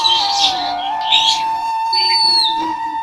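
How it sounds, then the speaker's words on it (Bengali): Village birds chirping and whistling nearby, one sustained tonal whistle running underneath while brighter trills and tweets rise over it, clear and alone. "পাখিদের কিচিরমিচির আওয়াজ আপনি ফিল পাবেন"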